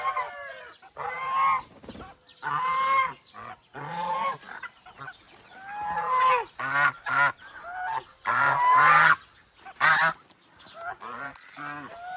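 Turkeys call on a farm in a run of loud, close gobbling and honking bursts, coming in irregular clusters separated by short pauses.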